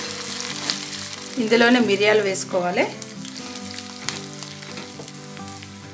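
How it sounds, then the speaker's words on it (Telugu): Urad dal, chana dal, dried red chillies and green chillies crackle in hot oil as a tempering for curd rice, a steady close sizzle with a brief spoken phrase in the middle. "మినపప్పు, శనగపప్పు కొంచెం వేయించాలి. ఇవి వేగిన తర్వాత ఎండు మిరపకాయలు, పచ్చిమిర్చి, ఇవి కూడా కొంచెం వేగాలి."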